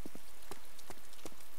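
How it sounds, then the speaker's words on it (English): Rain falls steadily in the survival game DayZ Mod, a close, even patter with scattered louder drops tapping across the surface. "now it's raining, so I'm gonna like freeze to death"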